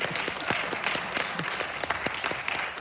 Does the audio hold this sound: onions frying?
no